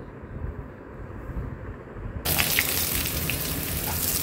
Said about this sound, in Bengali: এবারে কেটে রাখা সবজিটা ঢেলে দেব।